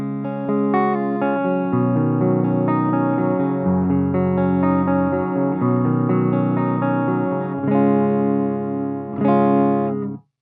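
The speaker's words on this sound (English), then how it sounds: "And now we are in the neck position, and it sounds like this." Fesley FSG350 electric guitar on the neck pickup, clean chords and picked notes ringing out with a warm, rounded tone, sustaining smoothly, with a final strummed chord near the end.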